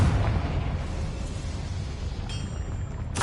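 Confringo fire spell cast in Hogwarts Legacy, a rumbling explosive blast followed by a sustained roaring burst that holds steady for a few seconds and ends with a second crackling flare.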